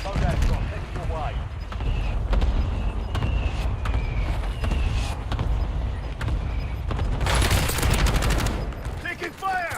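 Bursts of automatic gunfire and scattered single shots in the Warzone video game, a fusillade rattling loudly through most of the stretch with a heavy barrage near the end, mixed with game mechanisms and creaks.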